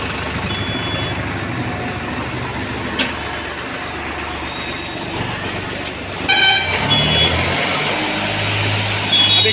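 A Sonalika 35 DI tractor moves slowly with a low diesel engine hum that grows louder toward the end. Short horn toots and some voices sound over it.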